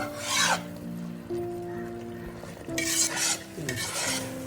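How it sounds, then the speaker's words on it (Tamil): Tomato halwa stirred nonstop in a pan, soft scraping and rubbing strokes with a light sizzle, close and fairly quiet, with short bursts of louder scraping. "ஒரு கைவிடாமல் ஒரு மூணு நிமிஷம் கிளறுவோம்"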